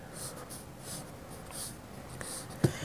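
A pen draws a dice cube on paper in a series of short, rhythmic scratching strokes, close and fairly quiet, with a small knock near the end.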